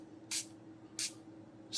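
A hand spray bottle mists water onto a shiitake mushroom grow kit in three short, crisp hissing bursts spaced evenly apart, close and alone against a quiet background.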